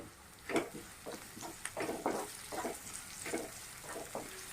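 Curry leaves stirred into onions frying in a pan give soft scraping and stirring strokes in an uneven rhythm, close by over a faint, steady sizzle, with no talk.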